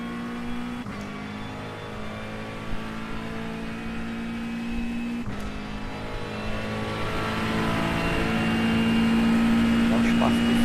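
GT3 race car engine in a racing video game at Interlagos, holding a steady droning tone that rises and grows louder toward the end, with someone talking over it.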